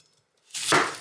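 A knife cuts through an onion on a board, a single brief crunching chop after a moment of near silence, close and fairly loud.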